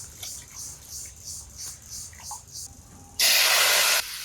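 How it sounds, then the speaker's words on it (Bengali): Bay leaf, dried chilli and panch phoron tempering in hot oil in an overheated kadai: soft rhythmic hissing pulses, then a loud sustained sizzling burst close up that cuts off sharply after about a second. "তেজপাতা, শুকনো লঙ্কা, পাঁচফোড়ন দিচ্ছি।"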